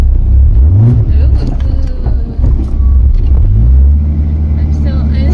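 A Toyota Supra engine runs with a deep, loud idle rumble and a couple of rising revs, while people talk nearby over the steady engine note.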